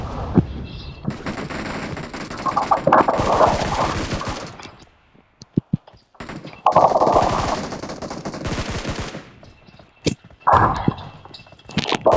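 Machine gun fire in a video game: long loud bursts of rapid automatic shots with short pauses and a few single cracks between volleys.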